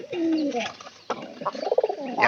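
A pigeon by its nest of young calls repeatedly in low guttural coos, close and loud, with brief rustling and faint chirps between the phrases.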